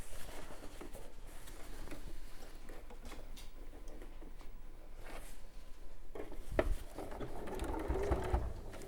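A sewing machine stitches around a continuous fabric tube for a drawstring tote bag, a steady close mechanical whirr running throughout with light ticking, nearly free of talk.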